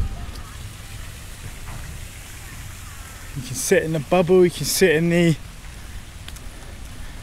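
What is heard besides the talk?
rain falling during a thunderstorm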